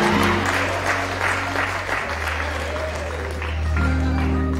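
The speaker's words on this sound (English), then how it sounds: "Clap for me." A congregation at a bishop's consecration ceremony claps loudly and steadily, with organ or keyboard tones sustained underneath and a brief shift in the backing music midway.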